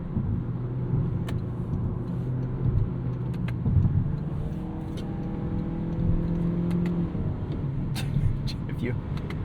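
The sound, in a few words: Toyota Corolla Hatchback engine revving with paddle shifts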